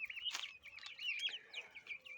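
High, busy peeping of chicks and turkey poults fills the scene, with a hen's soft clucks mixed in nearby.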